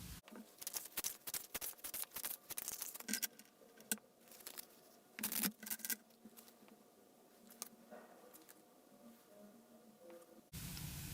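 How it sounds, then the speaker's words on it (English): Tarot cards are shuffled in quick bursts of crisp riffling and slapping, near and quiet, with short pauses between rounds. "I'm going to shuffle some more cards"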